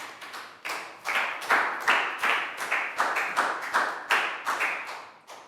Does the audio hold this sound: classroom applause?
yes